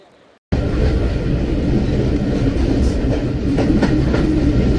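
Train running on rails after a brief quiet start, a steady loud rumble with faint clickety-clack of the wheels, close and continuous to the end.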